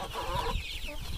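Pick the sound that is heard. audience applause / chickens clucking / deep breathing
chickens clucking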